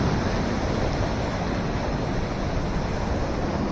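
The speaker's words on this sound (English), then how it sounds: "the actual water that you can hear" Steady broadband rush of water at a waterfall by a reed-lined swimming spot, a continuous close, even roar with no breaks and no voices.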